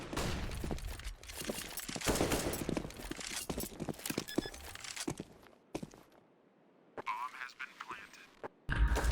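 Rapid bursts of gunfire in CS:GO, sprayed through smoke, crackling in dense volleys with short gaps and a quieter stretch before a final loud burst; talk runs over much of it.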